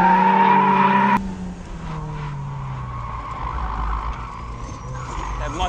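A turbocharged Mazda Miata accelerates hard at full throttle on a track, its engine note climbing loud and close as the tires squeal through a tight corner, with wind and road roar continuing throughout.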